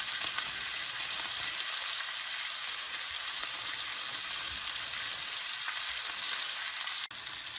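A T-bone steak sears in butter with garlic cloves and thyme in a cast iron pan, giving a steady, close, continuous sizzle and spatter throughout with no talking.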